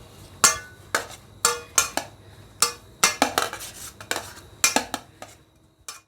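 A thali plate is greased with a little ghee for oats nankhatai biscuits, producing repeated sharp metallic clinks and scrapes of utensil against plate at an irregular rhythm, close and fairly loud, with no talking.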